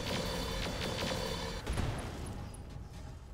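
Mech weapons fire in the BattleTech game Roguetech, a dense burst of rapid overlapping gunfire and booms that cuts off and leaves a fading rumble with a few faint beeps.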